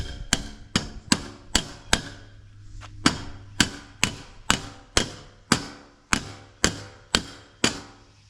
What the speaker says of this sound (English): it fits snugly just by tapping it on with a hammer